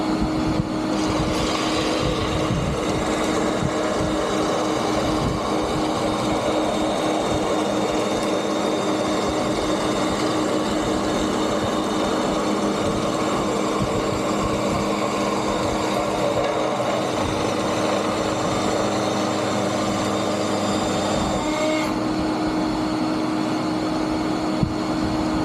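A power tool runs steadily while cedar is fed through a dowel rod jig, making a continuous mechanical whine and hum that holds near and fairly even for the whole stretch, with no talking.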